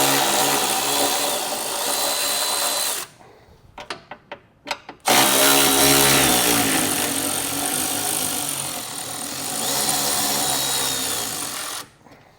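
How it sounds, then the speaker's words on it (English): A power tool fitted with a 15mm socket spins out the front bumper bolts below the body mount on a 2017 Ford truck during a hidden front hitch install, running in two long loud bursts split by a short gap of clicks and knocks. "We just need to take our 15mm socket and get those removed."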